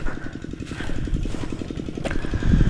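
A small farm engine, likely a water pump running on about 20 liters of fuel, drones in a steady, close, rhythmic putter with no break, loud and alone.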